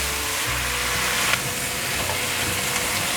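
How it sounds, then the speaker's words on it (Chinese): Carrot and bitter melon stir-fried in a pan with a splash of water for a vegan dish, giving a steady close sizzle with occasional scraping and clinks of the spatula, no voices. "放入苦瓜，放入少许的水，快速翻炒"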